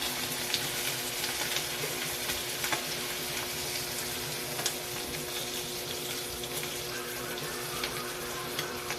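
Dried fish (tuyo) frying in a pan, a faint continuous sizzle and crackle with small pops scattered throughout, no talking.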